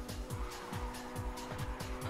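Race car in Ridge Racer 7 drifting through a corner, engine droning under a steady tire squeal with rapid repeated pulses, loud and close, with no speech.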